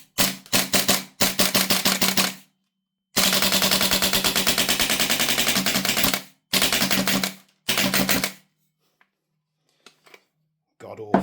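Marksman IX AR9 gas blowback airsoft rifle firing close and loud in rapid full-auto bursts of sharp cracks separated by short gaps, ending in a few isolated clicks.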